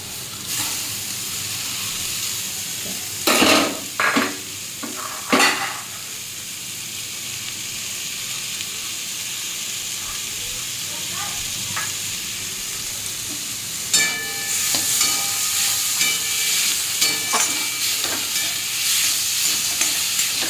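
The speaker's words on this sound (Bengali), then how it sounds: "একটু নেড়ে নেব" Mashed boiled papaya with capsicum is stirred and fried in a pan: a steady loud sizzle runs throughout, with a few sharp spatula scrapes and knocks against the pan, and the frying hiss swells again near the end.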